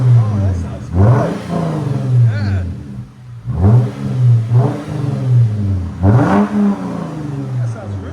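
A 2015 Lexus GS350's 3.5L V6 fitted with Evil Energy resonators revs hard three times, each sweep rising and falling loud and close, while people talk over and between the pulls.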